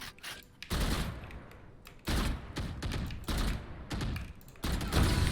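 Rapid bursts of gunfire in a one-on-one Valorant match, several loud volleys separated by short gaps, with no talking.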